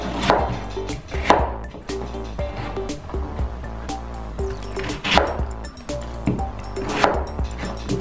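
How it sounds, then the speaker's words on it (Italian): A knife chops potatoes into pieces on a cutting board, giving repeated sharp, close knocks at an uneven rhythm over background music. "le taglio anche queste a pezzi perché le metto a cuocere insieme al cavolfiore"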